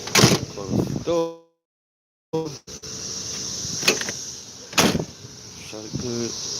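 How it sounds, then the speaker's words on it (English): A van door shuts with a few sharp knocks outdoors, close and fairly loud, between stretches of someone talking. "Close the door."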